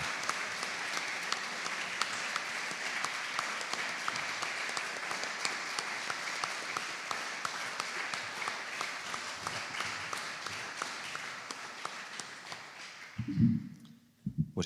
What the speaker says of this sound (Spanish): casi me salto el turno de los aplausos al autor